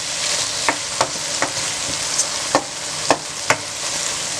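A pan of ridge gourd sabzi, already well fried until the oil separates, hisses steadily as fresh coriander is mixed in. A spoon knocks and scrapes against the pan every half second or so.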